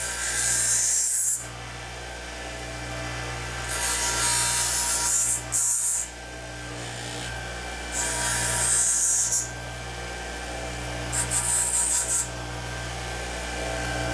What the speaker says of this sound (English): I usually grind the box all the way down to that.